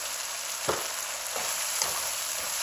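Half a spoon of cumin powder hits hot oil with browned mutton for yakhni pulao, giving a steady loud close sizzle with a few soft stirring scrapes throughout.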